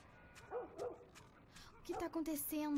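Distant dogs bark and yelp in the video game The Last of Us, a pair of barks followed by a louder run of whining yips, faint against a quiet backdrop.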